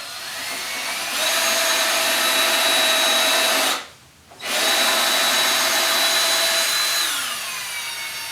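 A power drill drives 2.5-inch indoor screws into wooden workbench boards, whining steadily for several seconds, cutting off briefly, then running again at a constant pitch before slowing down.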